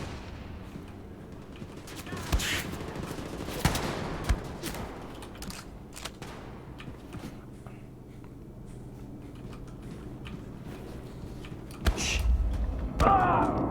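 Gunfire in the shooter Wolfenstein II: The New Colossus, with scattered sharp shots and bursts, including sniper fire, cracking over a low game background, plus mechanical clanks, and a louder blast near the end.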